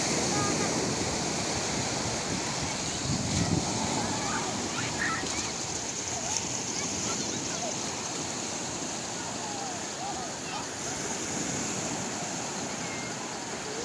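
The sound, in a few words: waves at Lege beach, Aceh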